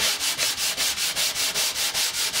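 A wooden panel is hand-sanded with the grain for a diorama display base. Steady back-and-forth rasping strokes repeat about every quarter second, close and even, with no voices.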